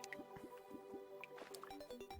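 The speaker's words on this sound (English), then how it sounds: "sounds like Nox found water down there" Water drips in the Four Flasks video game, a quiet series of plinking, slightly squishy drops falling at an uneven rhythm, close and faint, with no talking.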